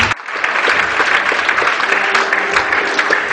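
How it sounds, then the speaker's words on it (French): Church congregation clapping steadily through a Sunday worship service, a dense, continuous burst of applause filling the room with no speech over it. "Acclame Dieu pour sa vie."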